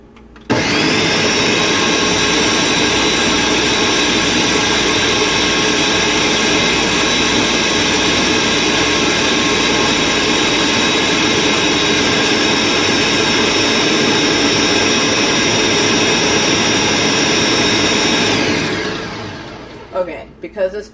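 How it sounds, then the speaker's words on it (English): A kitchen blender whirs at a loud, constant high-pitched roar for about eighteen seconds while blending cold remedy juice, then winds down, with a few faint sounds as it stops. "Because this has to blend for a little bit"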